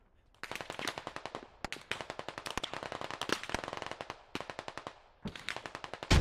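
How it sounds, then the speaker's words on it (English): Rapid automatic gunfire in a video game, loud and close, coming in dense clattering bursts broken by brief pauses, with no talking. "there's bullets going everywhere right now"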